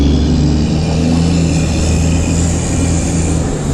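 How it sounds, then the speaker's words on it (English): A truck engine idles and rumbles close by in wet city traffic in Toronto, heard from a bike, as a steady loud low drone with a constant hum and no speech. "You gotta stay away from this truck."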